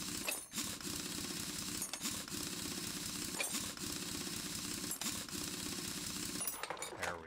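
In a car mechanic video game, a wheel is removed with a rapid mechanical clatter of an impact wrench spinning off lug nuts in repeated bursts, loud and busy across the whole stretch.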